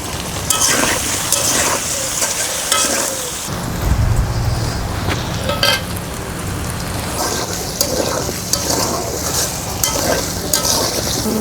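Potatoes fry in hot oil with turmeric in a wok, a loud continuous sizzle broken by scraping stirs and occasional bursts of crackling.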